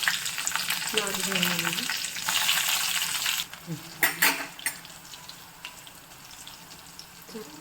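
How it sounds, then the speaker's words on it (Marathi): Cumin, mustard seeds, kasuri methi and finely chopped green chilli spit and crackle in hot oil in a kadhai, a steady close sizzle with a louder burst midway and a few sharp pops, with a brief scrape of a spoon. "कढईतलं तेल खूप छान तापलेलं आहे. आता आपण जिरं आणि मोहरी टाकून घेऊया."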